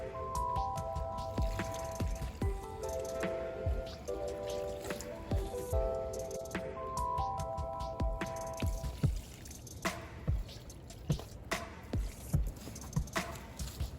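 Compost tea splashes and squishes over red cabbage plants in a garden, a wet dribbling pour with patters and drips that turns more sporadic toward the end, with occasional speech.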